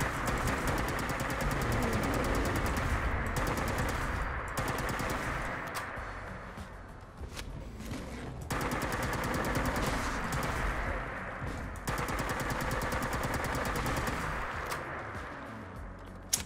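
The X12 Plasma Caster in Fallout 4 fires long rapid bursts of dense crackling shots against Deathclaws, with short pauses between sustained volleys, loud and close with no talking.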